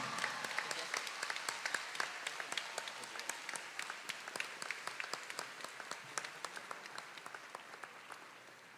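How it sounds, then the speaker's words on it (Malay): Graduates clap at a university convocation ceremony, with crisp individual claps standing out in a moderately dense round of applause that thins slightly over several seconds. "Berikan tepukan yang gemuruh untuk ayah, ibu serta keluarga anda yang hadir pada hari ini."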